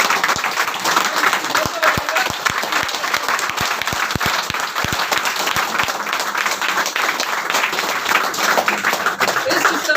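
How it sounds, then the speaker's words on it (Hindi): A room full of people at a business plan presentation breaks into loud, sustained applause, dense clapping filling the full ten seconds with a few sharp individual claps standing out. "एक बार जोरदार तालियां।"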